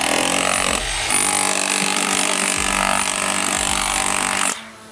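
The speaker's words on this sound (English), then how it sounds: "when I need to patch concrete, epoxy repair, waterproofing application with the bushing bit" A DeWalt rotary hammer fitted with a bushing bit grinds steadily against concrete, giving a loud, continuous, dense hammering roar that holds for several seconds before cutting off abruptly near the end.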